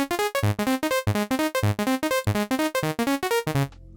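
A basic saw-wave patch on the Vital soft synth runs through an arpeggiated MIDI chord sequence, a rapid, even stream of short, bright buzzy notes stepping up and down before stopping abruptly, with a faint low tail.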